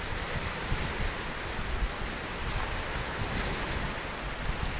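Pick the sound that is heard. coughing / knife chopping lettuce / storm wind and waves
storm wind and waves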